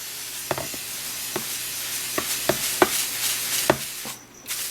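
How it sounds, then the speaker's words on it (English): Spray bottle misting water onto the moist side of an isopod enclosure, several short hissing spritzes at irregular intervals over a steady background hiss, close and fairly soft, with no voices. "Spray down just the moist side."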